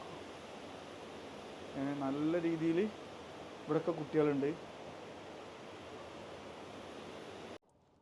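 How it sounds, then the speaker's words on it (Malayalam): A rushing river pours along steadily with a soft, even roar that continues throughout, while someone speaks briefly over it before the sound cuts off abruptly near the end. "എവിടെ നോക്കിക്കഴിഞ്ഞാലും കുത്തൊഴുകിക്കൊണ്ടിരിക്കുന്ന പുഴയാണ്"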